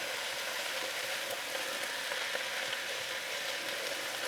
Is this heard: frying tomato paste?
yes